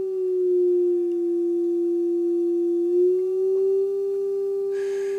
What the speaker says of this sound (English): if I turn the pitch control down